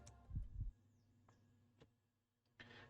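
A heartbeat sound effect from the visual novel World End Economica, two soft low thumps close together at the start, followed by quiet background and a few faint ticks.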